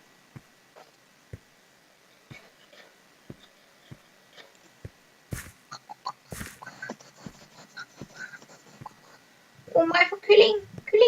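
Minecraft chickens clucking in a game world, short soft clucks and pecks repeating at a steady pace, followed by a burst of people talking excitedly over the game sounds near the end.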